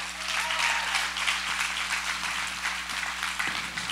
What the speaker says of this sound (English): Come on, give it up for the fathers in here.